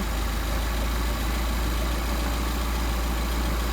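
A Mercedes 190SL engine fitted with Solex 44PHH carburetors idles at a steady, low rumble of about 700–750 rpm. The tone stays constant and close throughout, with no talking.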